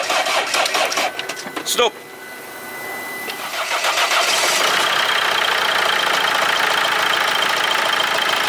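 A diesel car that was mistakenly fuelled with urea solution cranks with a few rough churning turns, then catches and settles into a loud, steady, clattering idle, with a voice speaking briefly during the cranking.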